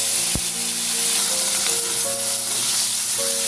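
Tomato drops into hot oil with bay leaf and dried red chili for a potol soyabean curry, a loud, steady close sizzle with a sharp knock early on and faint tonal hums.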